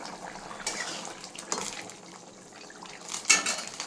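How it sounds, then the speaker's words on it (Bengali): Pieces of fried fish are placed into a simmering fish curry whose gravy has thickened in a pan, giving a few soft clatters of utensil against metal and light wet splashes, moderately close with no one speaking. "এবার ভেজে রাখা মাছগুলো দিয়ে দেবো।"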